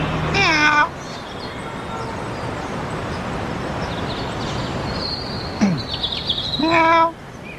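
Someone imitates a cat's meow, a short tonal call at the start and another near the end, with a faint whistling chirp between them over a constant rumbling background.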